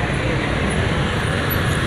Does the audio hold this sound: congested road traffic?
yes